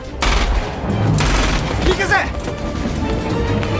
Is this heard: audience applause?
no